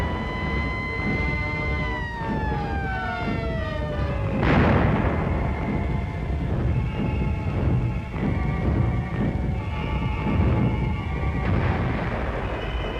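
Anti-aircraft guns firing during the September 1944 Battle of the Scheldt near Antwerp, Belgium, make dense, loud, continuous rumbling bursts and booms, with a descending siren-like whine at the start.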